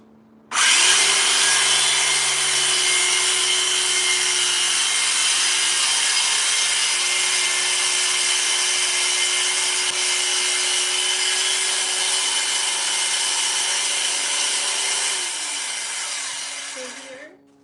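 A power saw cuts closet box panels for sliding-door wardrobes close to styrofoam, one long, loud, continuous cut of about fifteen seconds with a steady whine that winds down at the end.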